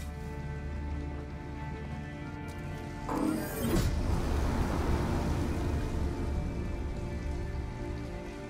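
Pouring rain in the video game Detroit: Become Human falls as a steady, dense hiss with no talk. It swells louder about a third of the way through and stays full to the end.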